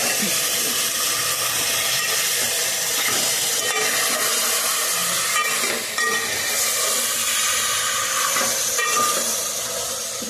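Bottle gourd curry with salt and turmeric being stirred in a cooking pot, a steady hissing sizzle with occasional soft scraping and clinks of the spoon, close and fairly loud.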